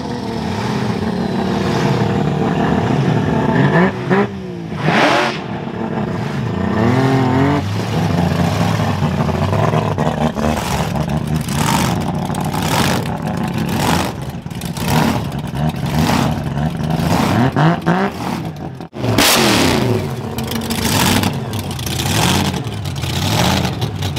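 Drag racing cars at a Street Outlaws Australia no-prep night at Powercruise rev hard and accelerate, loud engines swelling and sweeping in pitch again and again over about twenty-four seconds with no talk.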